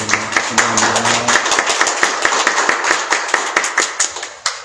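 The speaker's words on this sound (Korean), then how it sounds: "우리 박수로 환영합니다." A church congregation claps to welcome newcomers. The claps are sharp and close, with a few irregular ones at first over a fading tone, then settling into a steady rhythmic beat.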